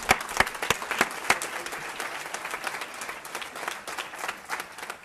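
Audience applause fills a large hall at an annual celebration event, dense and sustained with sharp individual claps standing out near the start, steady and lively throughout.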